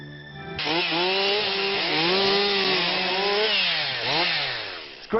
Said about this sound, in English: It's great to see chainsaws being used constructively for once.